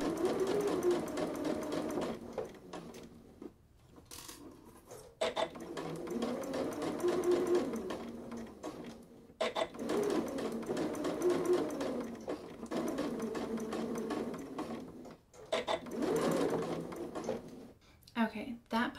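Sewing machine basting piping into a seam, bursts of rapid mechanical stitching chatter that start and stop several times, with a person talking softly in between.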